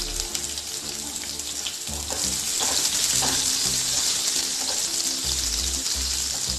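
Cumin seeds and a chopped green chili sizzling and frying in hot oil for a masala oats dish, a steady bright crackle that swells louder midway, close and continuous with no talking.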